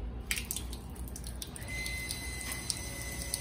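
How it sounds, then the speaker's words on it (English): Water pump humming as a tap is turned on under low water pressure, with broadband running-water and dripping noise, a steady tone emerging partway through and staying constant. "That is a water pump kicking in, so don't worry about that."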